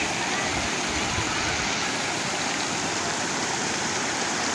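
Water rushing steadily into a dry canal, washing against crumbling sandy banks, a dense continuous roar with no let-up, loud and near.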